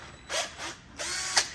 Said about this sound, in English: We've got a Mazzito drill.